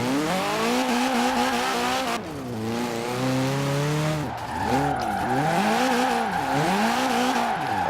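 A Ford Capri FE drifts in Forza Horizon 4, its engine loud and continuous, rising and falling in pitch as the revs swing, while the tyres squeal and skid with little grip throughout.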